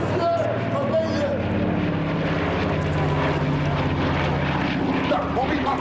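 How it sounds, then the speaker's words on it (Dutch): A DC-3 propeller airplane flying in formation gives a loud, continuous engine drone with someone talking over it. "Wat een ongelooflijk mooi vliegtuig is dat."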